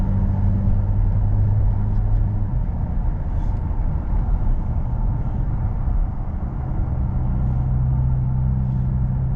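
An automatic car driven in manual mode accelerates at low speed and changes gears, a steady close engine drone and rumble whose pitch holds and then drops slightly as it shifts, with no voices.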